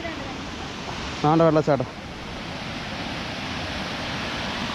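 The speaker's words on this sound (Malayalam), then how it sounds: "ഇതാ വെള്ളച്ചാട്ടം" Steady broadband rushing of the Aanachadikuth waterfall in Idukki fills the scene evenly from a moderate distance, with a brief voice speaking briefly over the constant roar.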